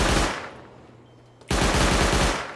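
Automatic gunfire in the survival game Rust during an online raid defence: a loud, dense burst of rapid shots that fades to a brief lull, then a second heavy sustained volley resumes, close and unbroken, with no talk.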